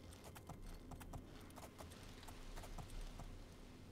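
Unicorn hooves clip-clopping at a steady, rapid rhythm while riding in the Oblivion video game, the beats close and even over a continuous low background hum.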